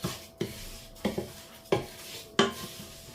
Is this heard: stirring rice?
yes